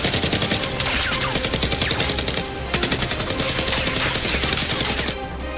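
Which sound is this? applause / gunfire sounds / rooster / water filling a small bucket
gunfire sounds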